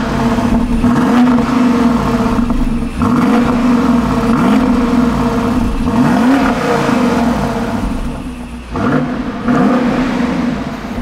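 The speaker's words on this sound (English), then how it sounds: "the sound of the exhaust V8 is okay" Deep, burbling twin-turbo V8 exhaust of a BMW X6 M50i SUV revving repeatedly up and down, loud and close, with a brief dip in the middle before it roars again.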